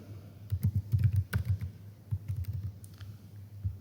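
Fingers type C++ code for a simple calculator program on a computer keyboard, a close, steady patter of quick key clicks in uneven bursts with brief pauses, no talking.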